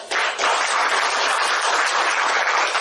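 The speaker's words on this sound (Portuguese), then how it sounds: "vamos aplaudir ele, né?" An audience at a spiritist centre applauds, a dense, loud wash of many hands clapping together that starts abruptly and continues evenly throughout.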